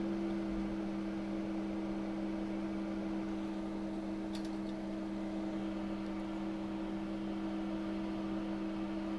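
A microwave oven runs steadily with a constant low electrical hum and fan whir, unbroken and alone at close range, with a brief faint click partway through.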